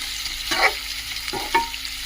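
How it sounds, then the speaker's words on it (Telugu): Onions sizzle in a pan as a spoon scrapes through them in two distinct strokes, close and moderately loud, over a low steady frying hiss. "ఇప్పుడు ఉల్లిపాయ ఉల్లిపాయ వేసుకోవాలి ఇవన్నీ బాగా వేగే వరకు కలుపుకోవాలి"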